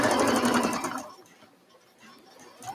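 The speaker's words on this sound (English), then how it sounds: "let me sew this along the crease" A sewing machine stitches fabric along a pressed crease in a quick, loud burst of about a second. Quiet handling follows, then a faint restart at the end.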